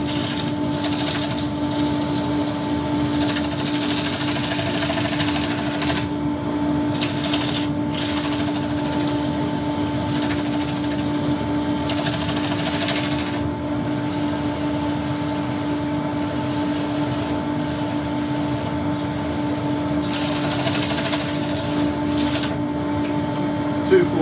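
A rotary sander with 240 grit hums steadily against a burr wood bowl on a lathe, a continuous whirring drone with rubbing hiss, while a person talks over it.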